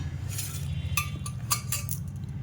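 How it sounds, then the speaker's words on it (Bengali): Rice being served onto a plate at a meal, a few sharp metallic clinks and scrapes of utensils against dishware over a low steady background hum, no voices. "তো আমি ভাতটা এবারে বেড়ে নিই,"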